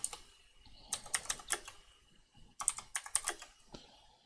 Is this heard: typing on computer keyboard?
yes